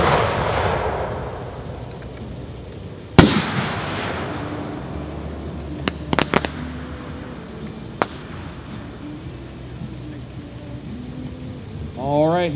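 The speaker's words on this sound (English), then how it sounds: "next up is the new 5-inch Thousand Flowers Butterfly," A 5-inch Thousand Flowers Butterfly aerial firework shell bursts with a sharp, loud boom, followed by a rolling echo and a few scattered distant pops and crackles across an open outdoor display.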